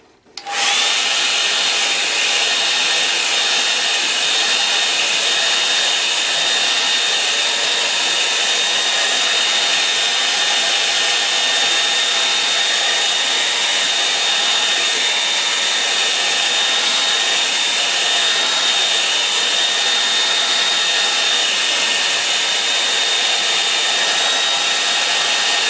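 Hair dryer blowing on acrylic paint along the horizon of a landscape painting, switching on abruptly and holding a loud, steady whooshing whine with a constant motor tone for the whole stretch.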